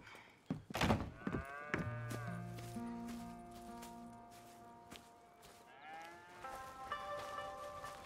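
Cattle lowing on a farm in the Red Dead Redemption 2 video game, a few drawn-out moos rising and falling close by, with soft thuds early on and quiet background ambience.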